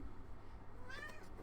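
A single short cat meow sounds faintly against a dim background hum.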